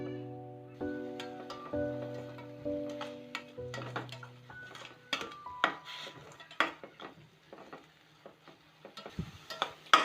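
Apple pieces for halwa sautéing in a pan, with a spoon repeatedly scraping and clinking against the metal in irregular, close strokes, under a steady low sizzle and hum.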